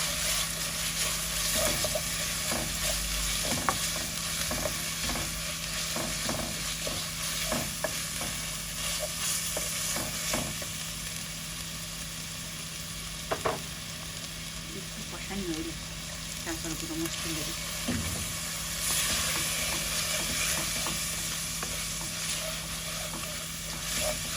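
Country chicken being sautéed in a pan: a steady sizzle fills the whole stretch, with occasional scraping stirs and clinks of a utensil against the pan.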